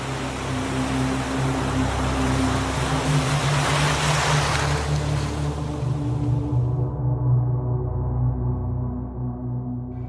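Sea waves wash around a submarine surfaced on a calmer afternoon sea, a steady broad rush with a low engine-like hum underneath, the hiss thinning partway through.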